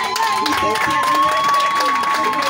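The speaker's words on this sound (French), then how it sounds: "Je vous en prie, applaudissez complètement pour son poste" Crowd applauding and cheering after an appeal to clap during a presentation, a dense steady wash of clapping with some voices mixed in throughout.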